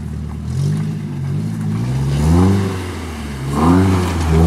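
A Nissan S14 engine revs repeatedly while the car does donuts on a track, rising and falling in surging pulls from up close with no talking.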